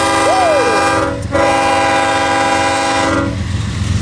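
An empty grain train rolls past at Bealville in the Tehachapi area, a loud, close, sustained rumble and roar of wagons, with a short horn note near the start, the sound thinning out toward the end.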